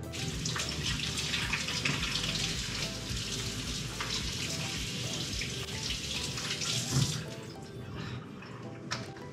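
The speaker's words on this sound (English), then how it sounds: "Again, you have to run hot water over it." Hot water runs steadily from a tap over a frozen lid, a continuous close hiss and splash of flowing water into a sink, with a brief clunk near the end.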